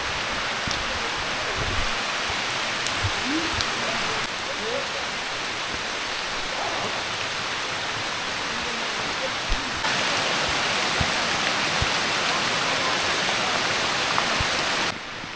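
Steady rain falls through a forest on a trek route near Karjat, a dense, even hiss that stays loud and unbroken throughout, with faint low rustles and a small step up in intensity partway through.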